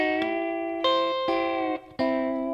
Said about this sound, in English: And the way that I'm getting this sound is I'm using my fingers.